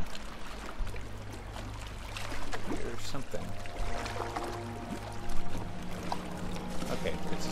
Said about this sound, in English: Okay, it's just water.